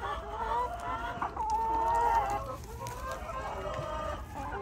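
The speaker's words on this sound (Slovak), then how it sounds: "Lúčime sa so sliepkami, ktoré idú piť práve." Hens cluck busily at close range on a farm near Pattaya, Thailand, with rhythmic, drawn-out calls rising and falling over light background noise and no talking.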